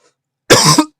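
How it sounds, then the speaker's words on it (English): One sharp, loud cough lands close into a microphone, brief and isolated against near silence. "Sorry, I did not mean to cough into the mic."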